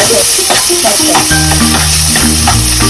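Onion goes into a hot pan and is stirred while it fries. A loud, continuous sizzle runs throughout, with occasional spoon scrapes and clinks close by.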